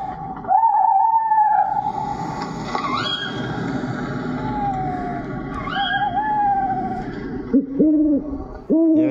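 An electronic eagle owl decoy plays deep, steady hoots over a constant background rumble, with a few higher whistling tones sliding across.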